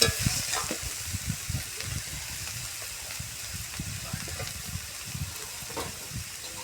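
Food is stirred continuously in a cooking pan with quiet scraping and soft clatter over a faint sizzle, the strokes repeating irregularly and close by.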